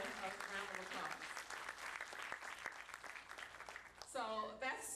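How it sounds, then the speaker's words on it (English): A community development anniversary audience breaks into applause, steady clapping heard faintly in the background while voices carry on over it toward the end. "That deserves a round of applause."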